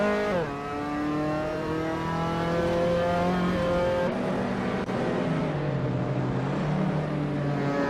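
Racing car engines in a video game, including a 1980 Volkswagen Golf GTI, droning loudly with layered revving tones that shift pitch through gear changes, continuous and close.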